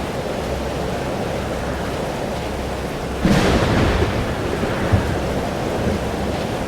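A storm in the video game Life is Strange: Double Exposure: a steady wash of rain and wind noise with a low rumble, a sudden louder thunder surge around the middle that fades back into the constant roar, no voices.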